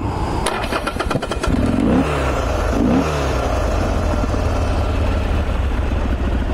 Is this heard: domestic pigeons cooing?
no